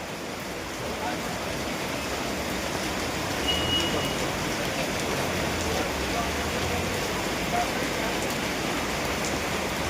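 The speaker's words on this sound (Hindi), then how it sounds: "तो देख सकते हो बहुत ज़ोर से बारिश शुरू है जो बंद होने का नाम नहीं है।" Heavy monsoon rain pours steadily on a street in Mumbai, a dense, continuous hiss of rainfall that stays loud and even throughout, with faint voices somewhere in the background.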